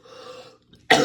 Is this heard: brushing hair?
no